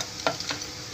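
Cumin seeds crackle and sizzle in hot oil for a tempering, a soft steady frying hiss with a couple of brief pops and stirring scrapes, close but fairly quiet, with no talking.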